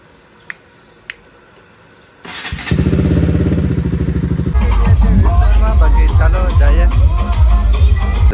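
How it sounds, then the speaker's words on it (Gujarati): A motorcycle engine sits quiet after two sharp clicks, then fires up and idles with a fast even putter before settling into a louder, throatier running rumble close by. "તો ચાલો બાઇક લઈ લીધી"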